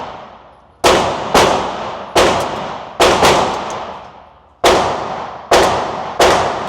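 Eight sharp, loud pistol shots from a CZ handgun ring out close by, each a hard crack with a decaying echo, fired in an irregular sequence with short pauses between.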